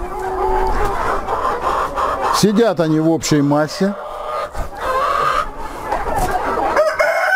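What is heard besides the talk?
roosters clucking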